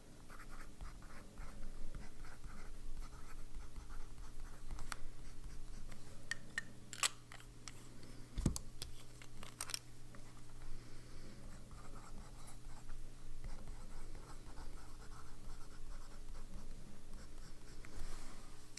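A fountain pen with wet ink scratches across Moramon paper in steady, soft rasping strokes, close and continuous, broken by a few brief sharper ticks of the nib, with no voices.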